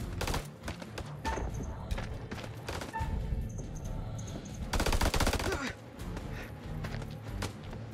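Rapid machine-gun bursts and scattered single gunshots fill a firefight in the horror game House of Ashes, dense and continuous with a louder volley in the middle, set against battle ambience.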